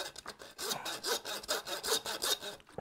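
A knife slicing through a wild New Zealand venison shoulder toward the bone, heard as a steady series of rasping, sawing strokes, close and fairly loud, with no talking.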